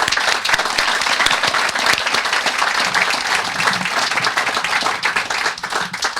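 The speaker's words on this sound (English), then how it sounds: "Can we have a round of applause for all of our volunteers?" Loud, dense audience applause for volunteers at a 25th anniversary rededication ceremony, many hands clapping at once in a continuous, even roar that holds steady for several seconds.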